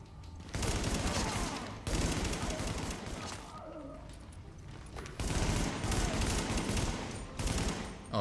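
Dense automatic gunfire in the shooter video game The Division, loud sustained bursts with brief lulls, plus faint game sounds between volleys.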